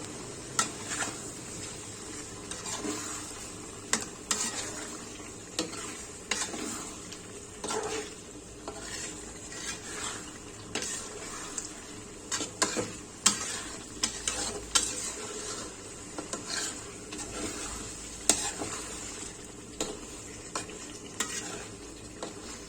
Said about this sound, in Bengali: দিয়ে আমি মাছটাকে নেড়ে দিচ্ছি।